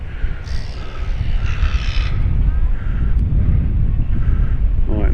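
Strong wind buffets a microphone on a Paphos beach in Cyprus, a loud continuous low rumble and gusting hiss throughout, with faint voices or distant sounds barely showing through.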